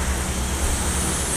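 Diesel engine of a Harapan Jaya Legacy SR2 bus with a Hino RN285 engine running at idle, a steady low rumble with a constant broadband hiss, heard close and loud throughout with no talking.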